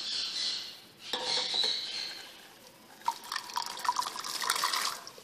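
Water runs from a tap into a small pot of washed peas in a home kitchen. The steady splashing trickle shifts in pitch, with light clinks of the pot, and no one speaks.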